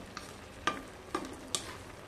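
Vegetables for pancit are stirred in a pan with three distinct scraping strokes over a soft, steady sizzle, close and moderately quiet with no talking.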